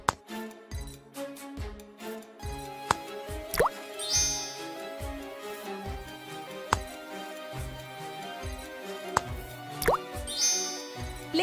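Blue food coloring drips into cold water jars in a casual water-science mobile game, a steady run of small synthetic plops and drips with occasional glassy clinks, quiet and without talk.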